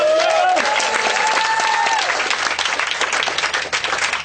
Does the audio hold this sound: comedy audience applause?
yes